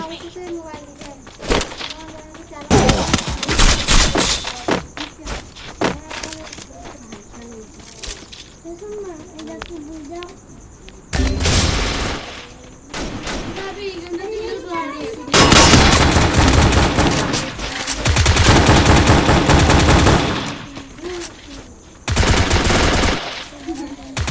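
Bursts of gunfire, some rapid like a machine gun, blast loudly in several long volleys between quieter gaps, with birds cooing and a voice speaking in between.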